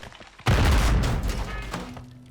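A sudden loud blast of gunfire in Warzone 3, a heavy boom followed by a dense rattling volley that slowly tapers off.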